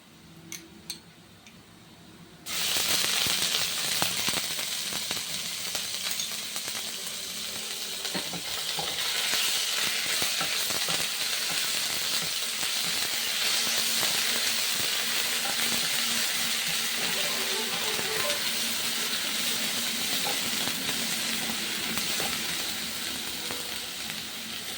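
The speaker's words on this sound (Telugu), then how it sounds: "ఇలా ఆనియన్స్ మంచిగా ఫ్రై అయిన తర్వాత ఇప్పుడు ఇందులో మనం అల్లం పేస్ట్ యాడ్ చేసుకుందాం." Ginger paste hits hot oil with fried onions for a mutton curry, breaking into a sudden loud sizzle after a quiet start and frying steadily with crackles and occasional stirring clinks.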